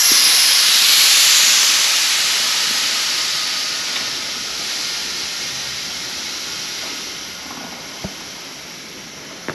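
Air hissing out of an opened valve on a lift holding a car during a frame-off restoration, a loud steady hiss that slowly fades over several seconds in a shop, with a couple of faint clicks near the end.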